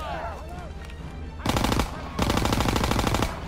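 Machine-gun fire in the WWII shooter Call of Duty WWII, bursts of rapid automatic shots that surge loud in two long volleys over a steady game backdrop, with fainter shots and effects in between.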